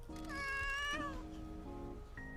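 A cartoonish cat meowing from the video game Promise Mascot Agency, a drawn-out, wavering meow followed by shorter mewing calls, clear and close over faint background sound.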